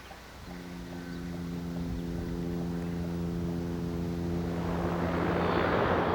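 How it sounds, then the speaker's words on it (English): Four turboprop engines of a Tupolev Tu-95 Bear bomber drone with a loud, steady propeller hum that grows into a roaring rush of noise as the aircraft draws close. "4 extremely powerful turboprop engines made the Bear one of the loudest aircraft in the history of aviation"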